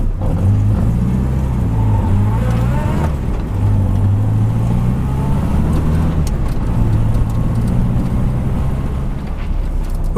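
A 1962 Morris Minor on a short test drive, its engine droning steadily from inside the cabin with a low hum that rises and falls slightly through gear changes, no talking.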